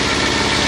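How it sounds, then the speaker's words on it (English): A small tractor drives a generator that powers an outdoor washing device, its engine running steadily at idle with a continuous mid-pitched rumble and faint knocking pulse, loud and close throughout, with no talk. "Our power source is a tractor-driven generator."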